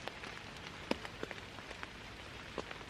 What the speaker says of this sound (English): it is chucking it down with rain now